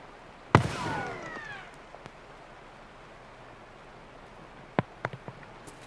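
Grenade blasts in the video game Escape from Tarkov: one loud sharp explosion with a ringing tail, then a second burst followed by a quick cluster of smaller cracks, all fairly close.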